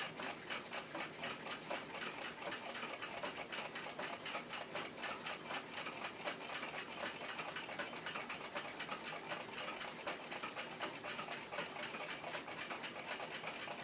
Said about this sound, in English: I'll put some power on the escapement and see how the escaped wheel teeth mesh with the pallets.